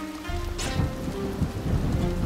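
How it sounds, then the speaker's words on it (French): Steady rain falls throughout a stealth sequence in the video game Shadow Tactics: Blades of the Shogun, a dense, constant wash of patter with low rumbling underneath, moderately loud and with no talking. "Peut-être le bruit de la pluie."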